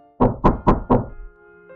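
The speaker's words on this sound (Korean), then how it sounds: "현관을 두드리는 소리가 들리더라." Knocking on a front door: four firm, evenly spaced knocks, close and loud, followed by a quiet room tone.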